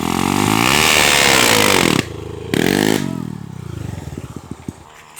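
A Honda Sonic motorcycle fitted with a CB cylinder head, a 66 mm piston and a 9 mm longer stroke revs hard and loud up close, cuts out briefly, roars again, then drops into a lumpy, uneven idle that stutters as it winds down.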